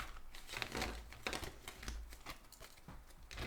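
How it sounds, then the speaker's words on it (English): Tarot cards being shuffled by hand give a close run of soft crinkling riffles and papery flutters, with a few sharper snaps, steady and fairly quiet throughout. "Let's do some shuffling."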